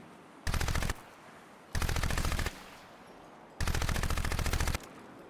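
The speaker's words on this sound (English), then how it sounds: "when you start firing and shooting, you'll see the particle effects will be" Three bursts of rapid automatic gunfire from the video game Crysis, each about a second long with short gaps between, loud and close with a rattling rhythm.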